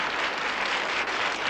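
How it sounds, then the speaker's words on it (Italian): Audience applause for a sung performance in an Italian comedy film, a dense steady burst of clapping from a full room, loud and close with no talk. "Signore e signori, un bel applauso!"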